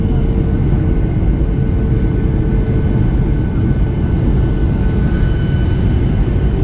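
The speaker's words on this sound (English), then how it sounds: "Going into a steep banking turn. Coming into land now. Landing gear's gone down." Airplane cabin on approach to land in Sweden, landing gear down and flaps extended, with a steady, loud, continuous engine and airflow roar throughout.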